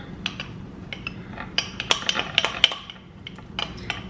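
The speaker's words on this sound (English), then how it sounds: "So give that a good stir." A spoon stirring a high-protein dessert with hazelnut butter in a bowl, a run of quick, bright clinks and scrapes against the bowl, close and alone without talk.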